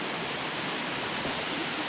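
Cascade Waterfalls in Portland, Jamaica roars as a steady, broadband rush of falling water, loud and close with no voices over it.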